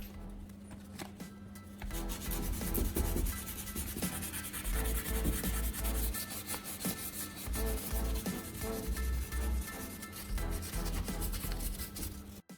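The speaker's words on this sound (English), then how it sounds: "Once it sets, peel off the tape and lightly sand the corner smooth." A repaired wooden corner is lightly sanded smooth, with steady close rubbing and scraping strokes that continue without a break and with no voices.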